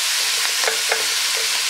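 Wooden spoon stirring braising beef short ribs in a pot, with a steady background sizzle and a few soft scraping strokes close by, no talking.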